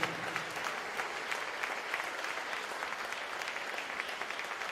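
A church congregation claps loudly together at a worship service, a dense, steady roar of applause that holds for several seconds with no speech over it.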